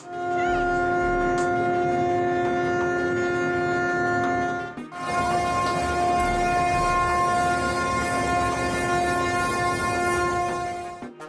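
A deep ship horn blares almost without pause as the ship nears a dock in an emergency, one long sustained blast, briefly breaking off midway before sounding again, loud and close.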